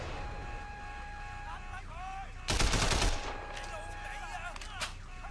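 A burst of rapid gunfire in the video game Sleeping Dogs cuts through a tonal game soundtrack, followed by a few scattered shots against the steady musical background.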